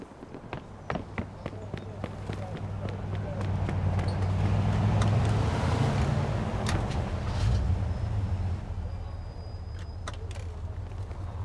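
Car driving in the video game Mafia II: a low engine hum swells in the middle and then settles, with sharp clicks at the start and voices talking over it.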